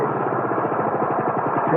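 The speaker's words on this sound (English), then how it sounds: "Just mowing the lawn, Mr. Hardy." A lawn mower engine runs steadily nearby on a suburban lawn, a loud continuous droning rumble with a rhythmic pulsing texture that holds throughout.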